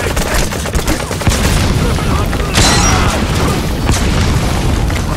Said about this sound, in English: Frags everywhere!